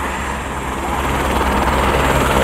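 Helicopter engine running up before takeoff, a steady loud nearby drone with a faint pulsing rotor beat that grows slightly stronger toward the end.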